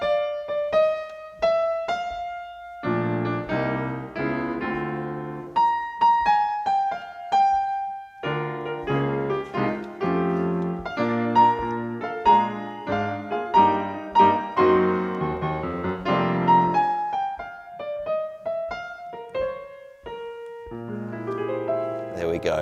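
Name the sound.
A tune's opening played with jazz harmony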